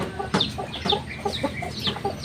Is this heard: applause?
no